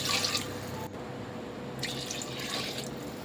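Water is poured into a cooker of basmati rice for biryani, a steady close trickle and splash in two bursts with a short break between.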